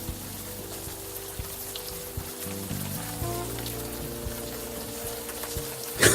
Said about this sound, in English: You're walking the streets in the rain